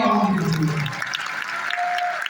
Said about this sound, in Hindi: ऐसी शख्सियत के लिए जोरदार तालियां होनी चाहिए।